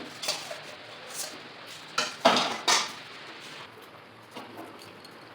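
Tomatoes are added to chicken being cooked down in a pan, with metal utensils clinking and knocking against cookware in a few sharp, close strikes and a light background hiss, without talk.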